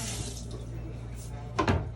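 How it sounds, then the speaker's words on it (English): Tap water runs steadily into a sink as hands are washed after handling greasy food, a continuous wash with a brief louder splash near the end and faint talk underneath. "let me just wash my hands."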